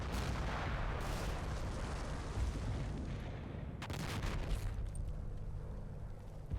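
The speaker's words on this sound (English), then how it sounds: "We'll have a look at the MG team that's shooting over there in a second." Machine gun team firing in a WWII Normandy hedgerow battle in Combat Mission: a continuous rumbling mix of distant gunfire and booming reports, with sharper bursts cutting through now and then.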